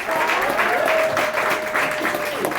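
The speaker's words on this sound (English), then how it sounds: "clap it up for Comedy Blvd" An audience applauds at a comedy show at Comedy Blvd, steady dense clapping from a crowd filling the room, moderately loud and sustained throughout, with a faint tone running underneath.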